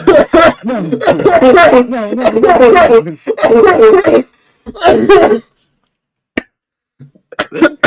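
Bursts of coughing mixed with laughter and talking, close and loud, followed by a few scattered short coughs and quiet gaps.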